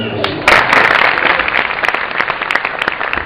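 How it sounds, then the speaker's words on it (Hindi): Audience at a Shivratri festival gathering bursts into loud, sustained clapping that carries on to the end, with scattered sharper claps standing out. "जोरदार ताली बजाओ"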